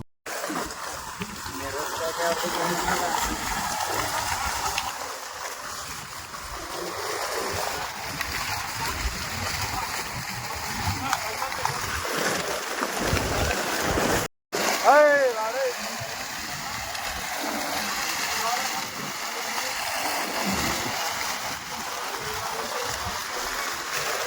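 A boat moves through water, giving a steady rushing, splashing wash that continues throughout with a brief cut partway, and people talk over it.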